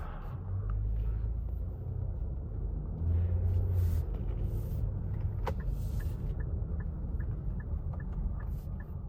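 A 2023-2025 Nissan Pathfinder pulls away and drives, a steady low engine and road rumble inside the cabin with a few faint clicks over it, no talking.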